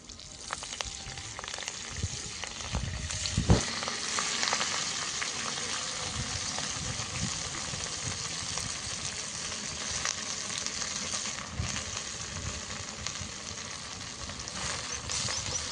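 Fenugreek leaves sautéing over high flame in hot oil for methi paneer, a loud continuous sizzle with crackling and occasional stirring scrapes, one brief sharper clatter early on.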